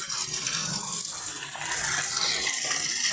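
Water pouring steadily into a fish pond tank, a continuous splashing gush at moderate level with no voices.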